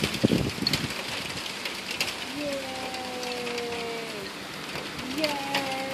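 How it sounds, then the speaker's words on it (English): Steady rain falls during a July thunderstorm, a broad hiss of drops on surfaces that persists throughout, with smooth whining tones gliding past in the middle and a few faint voices. "Ooh, that rain's cold too."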